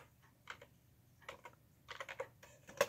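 Several short clusters of keystrokes on a computer keyboard tap out close and quiet between brief pauses, with no one speaking.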